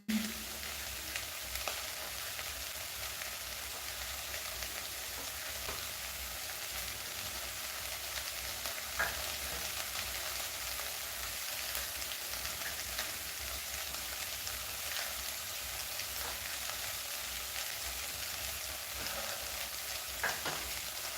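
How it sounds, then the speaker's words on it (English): Onion fries in a pot with a steady, even sizzle and hiss that runs throughout, broken only by a few faint clicks, with no talking. "As the onion cooks"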